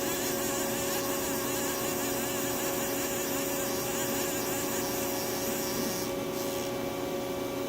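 A Haas ST10 lathe with a bar feeder runs as the bar is jogged in, giving a steady, close mechanical hum with a high whine that lasts throughout and changes slightly near the end.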